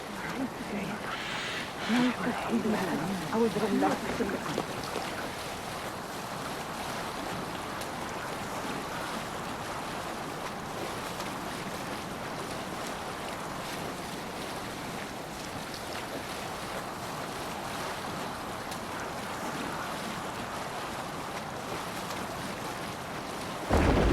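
Viking longship under sail in Assassin's Creed Valhalla, with a steady wash of water and wind running close and constant throughout, slightly busier near the start and with no voices.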